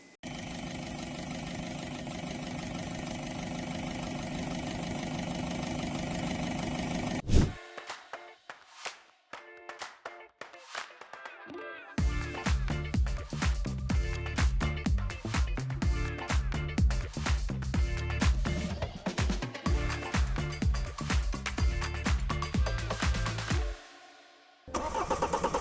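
A BMW 520d diesel with a repaired high-pressure pump and injectors, after metal shavings were cleaned from its fuel line, cranks and fires, settling into a loud, clattering idle with rhythmic knocking close by.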